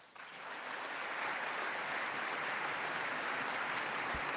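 Sustained crowd applause for a speech in a large hall, a dense steady wash of clapping that swells in the first second and holds loud throughout, with no talking over it.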